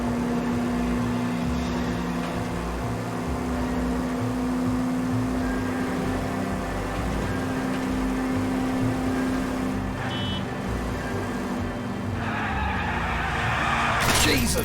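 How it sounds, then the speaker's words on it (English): A car in the 1940s detective video game L.A. Noire skids and slides, a steady engine drone with tire noise running throughout, ending in a louder scraping burst. "this car slides like crazy"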